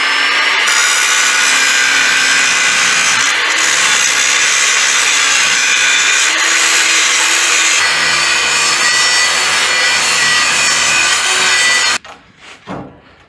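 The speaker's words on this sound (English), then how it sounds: "This won't lay flat, so let me do some grinding." A weld bead on a homemade steel weld table is ground down, producing a loud, continuous abrasive whine and rasp that holds steady for about twelve seconds, then stops abruptly with a few faint clunks.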